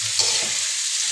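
Beef tripe stirred and fried in oil, giving a brief, steady bright sizzle with a soft scrape of stirring near the start.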